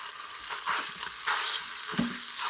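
Pork sausage sizzles steadily with butter in an electric Instant Pot on its saute setting, a dense close crackle with faint scraping stirs and a brief clink near the end.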